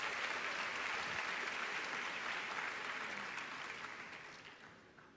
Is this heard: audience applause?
yes